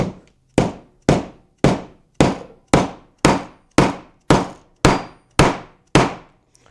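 A part is driven in with a hammer on a trim saw repair: eleven sharp, evenly spaced metallic taps about every half second, each ringing briefly and decaying, loud and close with no talking.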